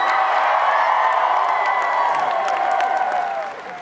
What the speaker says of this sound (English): audience, give a cheer for your first zombie!